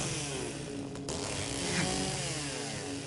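Chainsaw in Silent Hill 2 on PS5, a steady buzzing motor drone that holds loud and unbroken throughout, with a slight swell near the middle.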